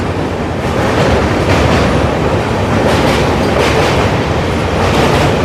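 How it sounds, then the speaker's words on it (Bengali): An Uttarbanga Express with new LHB coaches rumbles loudly and continuously across the Bally Bridge near Kolkata, heard from on board with steady rail roar and faint rhythmic clatter, no talk. "পার করছি আমরা এখন বালি ব্রিজ"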